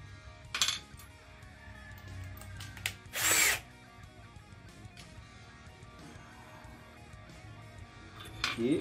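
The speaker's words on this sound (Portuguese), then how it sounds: "Vamos colocar aqui um bruto. Será que você vai aguentar esse de meia?" A Tramontina drill-driver drives a large half-inch screw into wood. It gives one short loud whirring burst partway through, with faint clicks and handling knocks before and after.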